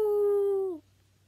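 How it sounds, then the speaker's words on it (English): A poodle lets out a single sustained howl, a steady tone held for most of a second before breaking off, close and clear over a faint low hum. "Noodle the poodle came in too."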